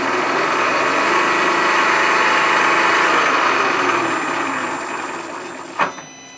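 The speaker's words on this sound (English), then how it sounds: "just do the spot drill." A spot drill cuts an access hole for a set screw in a spindle for a compact rotary broach kit, a steady whirring machine hum that fades slightly before a brief knock near the end, with no talking.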